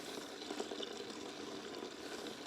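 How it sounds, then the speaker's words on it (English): Fuel pours through a coffee filter into a funnel in a steady, soft trickling stream, faint and continuous, with no talking. "Pouring it through a coffee filter."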